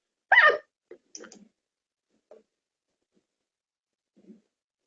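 Sharp click near the start, then a few fainter, spaced clicks over several seconds from a computer mouse being used to click links on a Facebook ads page, in a quiet room with no talking.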